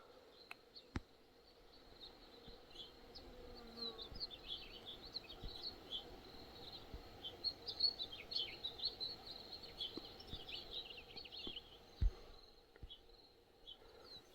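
House finches chirp in quick, scattered calls at moderate distance by a pond in the Chihuahuan desert, over a steady outdoor hiss of insects and light background noise.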